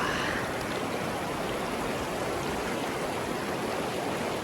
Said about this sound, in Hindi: यहाँ पे पानी में बड़े बड़े रेपिड उठ रहे हैं